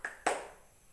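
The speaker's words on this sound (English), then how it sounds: "So let us clap our hands for ourselves." A classroom of students clapping their hands together, a short burst of a couple of sharp claps followed by a fading patter, fairly close and loud with no talking.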